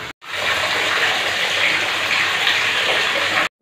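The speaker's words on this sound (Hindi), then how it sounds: "मेरा पानी भर रहा है" Water gushing steadily from a tap into a bucket or tub for a bath, a loud continuous rushing hiss that starts and stops abruptly, with no voices over it.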